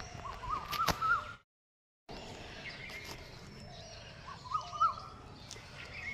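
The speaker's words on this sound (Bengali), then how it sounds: "কোকিলের ডাক" A cuckoo (koel) calling outdoors at night with rising whistled notes, heard twice at a moderate distance, with a brief dropout between calls.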